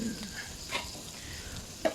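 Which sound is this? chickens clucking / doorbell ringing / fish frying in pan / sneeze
fish frying in pan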